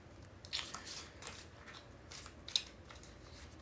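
Tarot cards shuffled by hand: soft, quiet papery riffles and crackling flutters in scattered bursts, with a sharper snap near the end, fairly close but faint.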